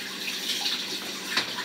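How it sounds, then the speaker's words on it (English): A cold water tap runs steadily into a bottle, a continuous close hiss and splash with a few brief higher spatters near the end. "water tap, cold tap."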